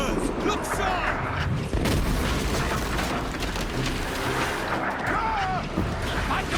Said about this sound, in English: Mortars! Look sharp!